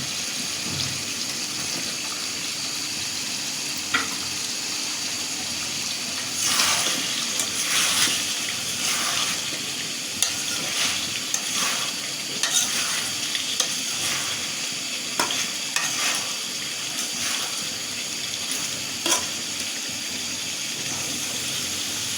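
Meat sizzles in a hot pan with chui jhal and garlic, a steady close frying hiss broken by bursts of scraping as it is stirred; no one speaks.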